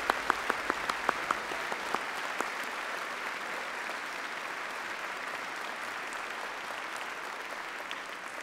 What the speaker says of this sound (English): join me in thanking them with a huge round of applause